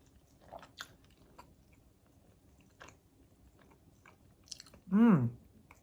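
Soft chewing of a mouthful of hot tomato pasta alla assassina, quiet wet mouth sounds and small bites close to the microphone, ending in a short appreciative hum.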